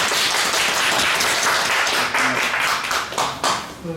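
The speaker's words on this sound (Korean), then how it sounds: "박수로 환영을 해주십니다." A church congregation claps together to welcome someone during a Sunday service, a dense, loud, continuous burst of applause that thins slightly near the end.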